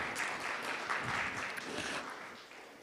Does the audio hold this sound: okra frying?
no